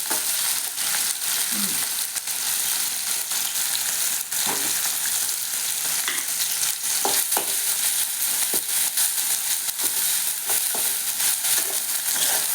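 Onion, tomato and crushed green chili fry in oil in a pan, a loud, unbroken sizzle with occasional stirring scrapes and crackles and no talking.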